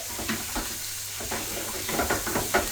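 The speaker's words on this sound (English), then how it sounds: "My onions and garlic, straight in the pan. And give all that a bit of a saute." Onions, garlic and prawns sauté in a hot pan, giving a steady close sizzle broken by stirring scrapes and soft clatters, with no talking.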